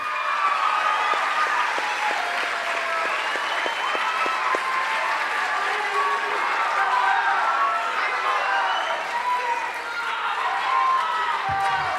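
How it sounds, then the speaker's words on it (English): Applause from the audience at a junior high school awards ceremony in Logansport, a sustained wash of clapping from a large crowd heard at a distance, with voices mixed in beneath it. "Let's give this group a round of applause as well."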